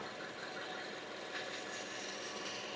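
An Acura car engine idles while still cold, giving a steady, even rumble with a faint mechanical knock running through it, heard close and alone.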